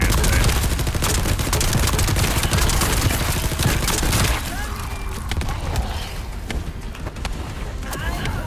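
Launcher fire in The First Descendant rattles out as dense, rapid bursts of gunfire and booms for about four seconds, then thins to scattered softer impacts and mechanical clicks.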